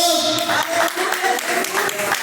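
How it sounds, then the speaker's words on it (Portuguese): A church congregation clapping during a live worship service, rhythmic hand claps carried over a loud, sustained voice or music, with the whole sound steady and close. "Só quem crê bate palmas e glorifica o nome de Jesus."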